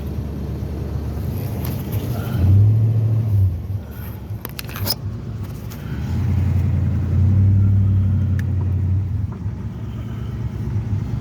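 A 1969 Ford Mustang Mach 1 engine idles with a steady low rumble heard from behind the wheel, swelling twice into slightly louder revs, with faint wind and cabin noise and no talking.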